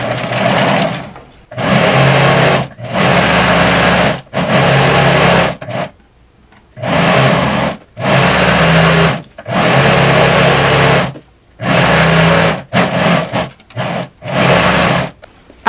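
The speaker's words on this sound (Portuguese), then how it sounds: "Agora que eu passei a costura em toda a circunferência aqui do cos, todo o cos" A home sewing machine stitching around a skirt waistband runs in loud, close bursts of a few seconds each, separated by brief pauses, with a fast mechanical whir.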